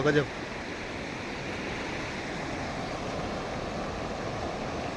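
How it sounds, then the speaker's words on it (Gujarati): Rushing rainwater from heavy village rain pours through a swollen stream as a steady, unbroken roar, with a brief voice at the very start. "આ પાણીનો પ્રવાહ તમે જોઈ શકો છો એટલો બધો વિશાળ અને ભયાનક છે"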